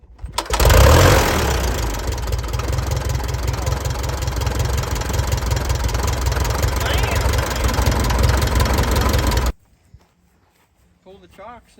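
The engine of a 1939 Piper J3 airplane catches with a loud burst, then settles into a steady, chugging idle close by for several seconds before cutting off abruptly, followed by a short quiet stretch with a voice.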